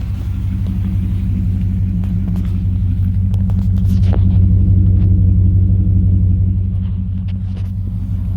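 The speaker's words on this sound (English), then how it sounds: "Nice little V8 sound to it." A 1998 GMC Sierra V8 idles with its hood open, producing a loud, steady, close-up rumble with a low throbbing pulse and no revving.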